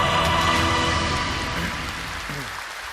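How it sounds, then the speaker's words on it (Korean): Church audience applauding to welcome guests, a dense, loud wash of clapping that fades gradually over about three seconds. "큰 박수로 환영해 주세요."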